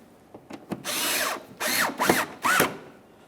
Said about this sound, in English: In the fender well, reinstall your Phillips head screw.